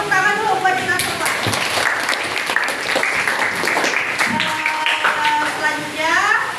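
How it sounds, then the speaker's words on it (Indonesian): A classroom group claps together during a lesson observation session, brisk and fairly loud, with voices and cheering tones rising over the clapping before it swells again at the close. "tepuk tangan dulu buat kita semua"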